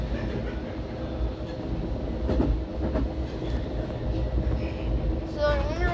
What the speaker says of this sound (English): I can see this train going 70.